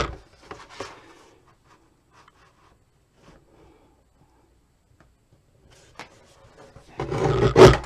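A blade slices through album cover board along a marked cutting line, mostly quiet with a few faint scratches, then a louder rasping drag of the cut in the final second, close by.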